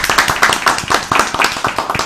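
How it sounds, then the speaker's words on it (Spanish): An audience claps in a steady, close burst of individual hand claps to welcome a guest at a televised political discussion, with no voices over it. "vamos a recibir a Modesto con el aplauso que siempre recibimos"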